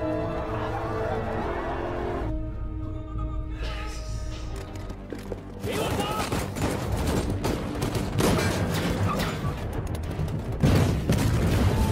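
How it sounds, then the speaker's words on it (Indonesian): A film shootout between soldiers and gangsters, with rapid gunfire bursts and booming shots crackling over a tense musical score, growing denser and louder toward the end. "baku tembak antara militer dan anak buah Zen pun tak bisa dihindari lagi"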